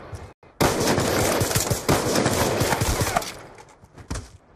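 Machine gun fire rattles in a sniper-versus-machine-gun video game match. A dense, loud burst of rapid shots runs for about three seconds after a brief gap, then thins and fades toward the end.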